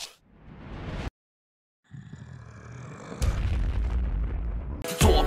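In the Plants vs. Zombies video game, a Doom-shroom detonates as a deep booming blast. Bursts come in stages, with a sudden cutoff to silence, then rising rumbling, and a final loud crack near the end.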